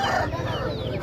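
Chickens cluck close by at a Saturday village market in Mydukur, Kadapa, Andhra Pradesh, a short burst of busy fowl calls over background crowd noise.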